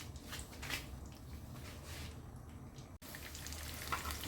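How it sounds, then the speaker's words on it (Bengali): Small baby eggplants frying in hot oil in a pan, a faint, steady crackling sizzle with soft popping and one brief dropout near the end. "চলো বেগুনটা ভাজা হোক"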